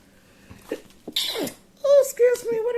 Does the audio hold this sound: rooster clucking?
no